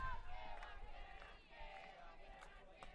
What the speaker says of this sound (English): Lady Buff dugout making some noise, cheering on their teammate